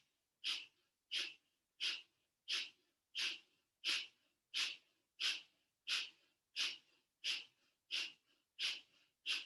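A yoga breathing exercise of rapid belly pumping: fourteen evenly spaced, forceful nasal breaths in a steady rhythm, close but fairly quiet, with no talking between them.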